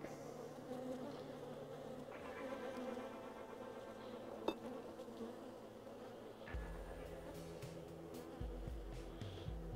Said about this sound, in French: Abeilles tranquilles